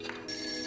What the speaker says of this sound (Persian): تلفن داریم